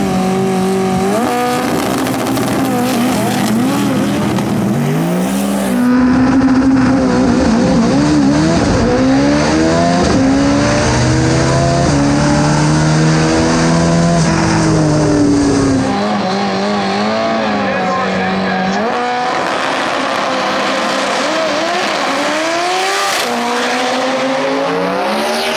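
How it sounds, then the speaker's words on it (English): A Nissan 240 with an SR20 engine makes a drag run at a TX2K event. The engine is loud and continuous, with rising gear sweeps, a pitch that climbs and falls, and another car's engine around it. No one speaks. "Got our boy with the SR20 240 throwing down."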